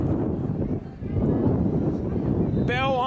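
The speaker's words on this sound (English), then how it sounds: "It is cold and windy out here." Wind buffeting a microphone at an outdoor varsity high school football game on a cold night, a loud low rumble of gusts that dips briefly, then swells again, with a short whistle-like tone near the end.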